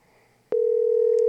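A telephone line clicks open, then a steady, unbroken dial tone hums at moderate loudness with nothing else over it.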